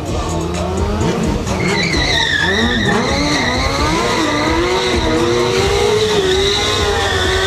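A stunt motorcycle drifts and skids at a stunt show final, its tires squealing in long rising and falling screeches over a steady, loud engine drone.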